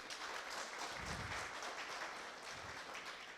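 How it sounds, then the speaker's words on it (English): Sustained audience applause at an actuarial society convention in Zimbabwe, a steady dense wash of many hands clapping with no voices over it, fairly even in loudness throughout. "Let's clap hands for Claxon."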